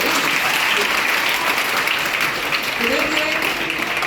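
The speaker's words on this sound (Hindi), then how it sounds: "एक बार शानदार भगवान के ताली बजाएंगे।" Sustained, dense applause fills a seminar hall at steady loudness throughout, with faint voices audible beneath the clapping.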